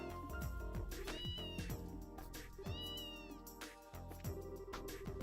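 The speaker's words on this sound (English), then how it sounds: "there's a kitty here!" A cat meows in the Trails in the Sky video game: short mewing cries rise over busy, continuous game music and sound effects, with no speech.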